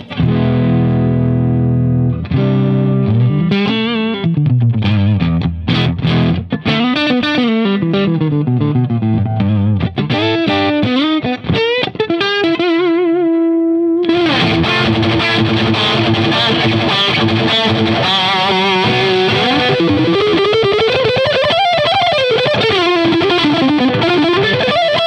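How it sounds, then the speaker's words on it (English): Electric guitar through a Marshall Plexi amplifier, played loud and driven with distortion, starting with single-note melodic runs and bends, a brief held note, then heavy sustained chords and lead lines for the remaining stretch. "The guitar sounds like this through a Marshall Plexi."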